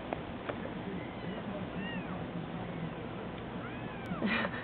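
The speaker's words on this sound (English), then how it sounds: "We have some sweet kittens we're taking care of." Two young kittens mewing in a home, giving several thin, rising high-pitched cries scattered over a steady background noise, with a slightly louder cluster of mews near the end.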